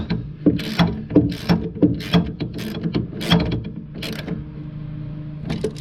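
Brake light switches being tightened onto the master cylinder of a VW Beetle, heard as a close series of rhythmic ratcheting clicks and mechanical turning sounds that come in bursts and then ease off.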